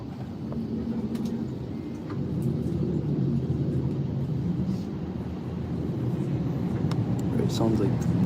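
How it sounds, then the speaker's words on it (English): An A320neo airliner's engines start up at the airport during a late-night departure from IAH, heard from inside the cabin as a steady, loud low rumble that swells slightly and holds throughout. "It sounds like the plane is finally starting up."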